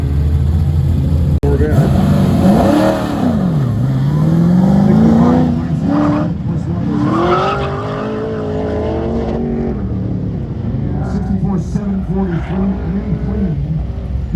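An autocross race car drives a lap with a loud, close engine that rises and falls through revs as it accelerates and brakes, and tires squeal through turns while a voice talks over it.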